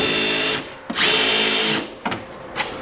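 A power drill drives screws into a wooden shed window frame in two short whirring bursts, close and fairly loud, with clicks of handling between the runs.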